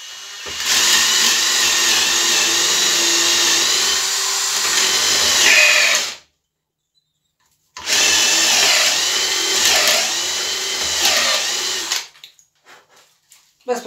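A Graphite Energy+ 58G010 impact drill-driver fitted with a 10 bit drills steadily in two loud, close bursts of about six and four seconds, separated by a short pause, with its whine dipping briefly under load.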